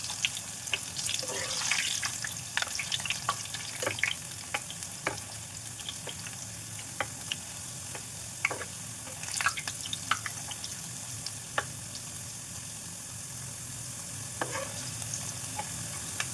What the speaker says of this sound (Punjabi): ਦੇਖੋ ਜੀ ਆਪਣਾ ਆਇਲ ਬਿਲਕੁਲ ਗਰਮ ਹੋ ਗਿਆ ਮੈਨੇ ਹੀਟ ਕਰਤੀ ਆ ਲੋ ਫਲੇਮ ਤੇ ਹੁਣ ਆਪਾਂ ਇਹਦੇ ਵਿੱਚ ਛੱਡਾਂਗੇ ਚਿਪਸ